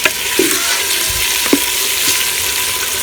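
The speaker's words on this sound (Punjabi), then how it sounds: "ਹੁਣ ਸ਼ਾਮਲ ਕਰਾਂਗੇ ਟਮਾਟਰ ਤੇ ਸਬਜ਼ ਮਿਰਚ। ਅੱਛੀ ਤਰ੍ਹਾਂ ਮਿਕਸ ਕਰ ਲਾਂਗੇ।" Tomatoes and green chillies sizzling steadily as they are stirred in a hot pan, with a few soft scraping strokes of the spoon over the continuous close frying hiss.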